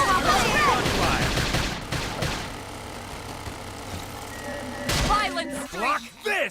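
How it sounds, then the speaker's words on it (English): Gunfire in the video game Xenoblade Chronicles X, bursts of rapid shots mixed with engine-like rumble and game effects during a battle, with a voice calling out over parts of it. "Topple him with some gunfire!"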